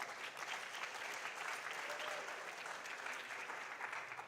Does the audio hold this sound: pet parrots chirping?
no